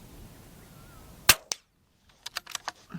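A CZ 452 rimfire rifle fires one sharp, loud crack outdoors, followed by a fainter echoing report and a short cluster of smaller clicks and knocks after a moment of quiet.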